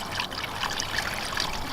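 Cooling-system flush solution pours steadily into a car radiator, giving a continuous close trickling, gurgling stream of liquid that stays at an even level throughout.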